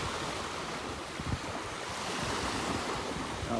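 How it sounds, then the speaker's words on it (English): Small waves from a boat passing out in the Gulf wash steadily onto a beach in North Naples, Florida, a continuous soft surf hiss with some wind rumble over the microphone throughout. "A little wave action, just picking up, might be from a boat that went by"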